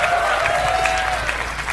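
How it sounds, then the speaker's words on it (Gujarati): An audience at a live Lavari show claps for Saumya Joshi in a dense, continuous burst of applause that fills the short moment. "તો સૌમ્ય જોશી માટે પણ તાળીઓ થઈ જાય એવરીબડી"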